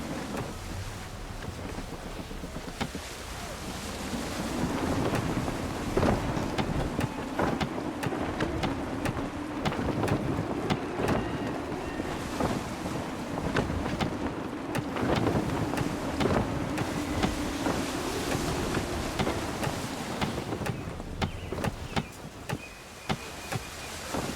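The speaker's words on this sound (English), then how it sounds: "Gusty winds can be difficult to manage." In Assassin's Creed 3, gusty wind rushes over open sea with waves washing and sloshing against a sailing ship. It is a continuous, textured roar with scattered knocks and creaks throughout.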